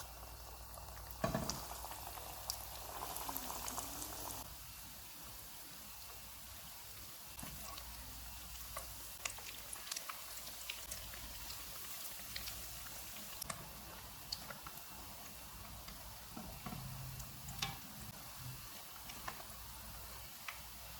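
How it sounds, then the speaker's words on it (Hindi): Mayo chicken bread balls deep-fry in hot oil over a medium flame, giving a soft continuous bubbling and crackle with scattered light pops, faint and steady throughout. "बाल्स फ्राई हो गए, इनको निकाल लेते हैं। इसी तरह से हम बाकी भी फ्राई कर लेंगे।"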